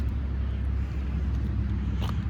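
Road traffic passes near a campsite at Wilson State Park in Harrison, Michigan, as a steady, distant low rumble that carries on without a break.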